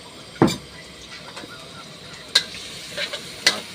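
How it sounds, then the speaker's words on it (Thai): Garlic and chili fry in oil in a pan for a beef-ball stir-fry: a soft, steady sizzle is broken by a few sharp, spaced clinks and scrapes from the stirring utensil. "ใส่น้ำมันเสร็จ เราก็มาใส่ กระเทียมพริกเราลงไปเลยครับ"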